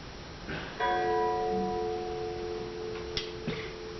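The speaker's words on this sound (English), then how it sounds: "The bell invites me." A single bell strikes once and its harmonic tones ring out, sustaining and slowly fading, with faint knocks in the background.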